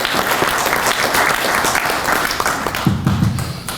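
Audience applause for candidates at a 2025 primary election forum, a lively wash of clapping that thins toward the end as a low voice briefly rises beneath it.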